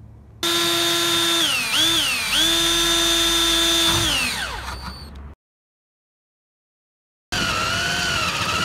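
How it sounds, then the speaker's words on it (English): A power drill bores holes in the sheet-metal door of a Gen3 Mitsubishi Montero to take rivnuts for a spoiler. The motor whines loud and close, dips under load twice, then winds down. After a pause it starts again. "you're going to need to drill them out to install a Rivnut"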